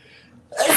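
A single sharp sneeze bursts out close by after a brief soft inhale, loud and short.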